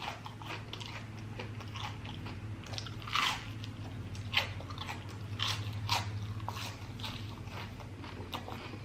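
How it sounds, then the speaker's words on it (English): Crunchy Red Robin onion rings bitten and chewed close to the mic, a steady run of crisp crunches with louder bites near three and four seconds, over a low constant hum. "I'm going to start out with some onion rings here first."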